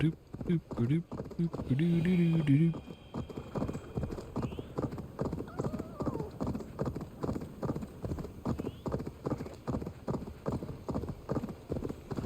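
Horse hooves clip-clopping at a fast, steady gallop through Assassin's Creed Valhalla, with a brief whinny early on, under game music and occasional speech.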